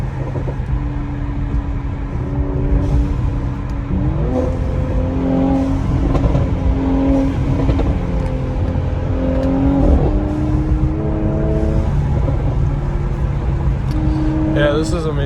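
Engine of a 2020 Mercedes-AMG C43 driven hard from the cabin, steady droning revs rising and dropping with repeated gear changes and sharp exhaust pops, loud and continuous.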